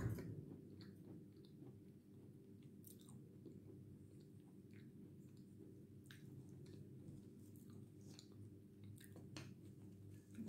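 Wet chalk chewed right up close: soft, moist squishing and crunching with occasional faint clicks over a steady low background hum, no talking.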